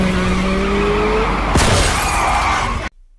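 A woman tumbles off a moving motorbike during a film chase with gunfire: loud tire skid and engine rumble, then a sharp crash with scraping and shattering debris, cutting abruptly to near silence at the end.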